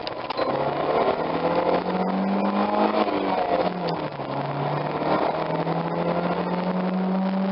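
A 2000s Saturn Ion Quad Coupe economy car accelerates in first gear, its engine drone climbing steadily in pitch, dipping briefly, then rising again, loud and close throughout with no talking.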